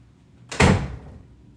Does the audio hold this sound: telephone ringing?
no